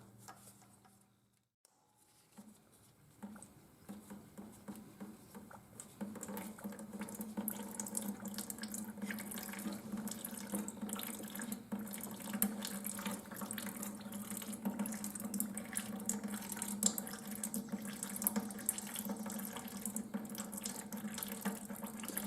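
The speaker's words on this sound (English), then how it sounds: "drain a little bit out of the bottom till the water drains out" Water trickles and then runs in a steady, close stream from a John Deere fuel filter drain valve, building from a faint dribble to a continuous splashing flow.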